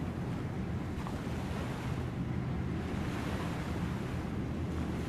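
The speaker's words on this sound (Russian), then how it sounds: "стал смотреть на волны, которые накатывались и падали на берег" Waves roll onto a beach and break on the shore in a steady, loud, close wash of surf, with gusty wind noise blended in and no voices.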